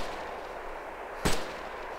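A single sharp gunshot in DayZ, fairly distant, cracking once over a steady outdoor ambient hiss.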